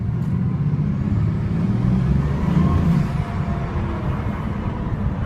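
A Bugatti sports car being driven, heard from inside as a steady, dense low road and engine rumble with a slight swell partway through, continuous and fairly loud throughout.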